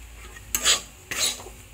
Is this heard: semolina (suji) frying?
yes